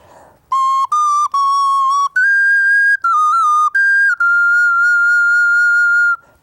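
A small Irish Celtic clay whistle plays a short, clear melody up close, several choppy notes followed by one long held tone, bright and loud.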